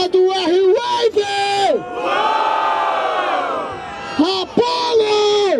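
Rap battle crowd in Barueri, São Paulo, roars and cheers loudly for several seconds, with shouted calls and a host's voice over the noise at the start and end.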